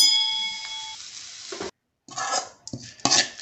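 Mustard seeds spluttering in hot oil in a pan for tempering, soft crackling and popping after a fading ring, broken by a short silence and then resuming in irregular close bursts.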